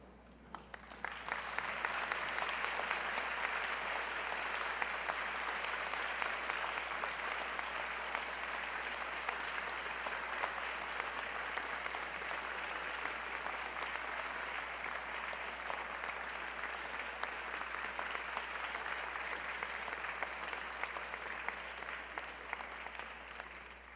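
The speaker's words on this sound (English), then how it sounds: "give them a round of applause" A seated medical school white coat ceremony audience rises and applauds family and friends: a long, steady wash of dense clapping that holds evenly for the whole stretch, soft and somewhat distant, with no voices over it.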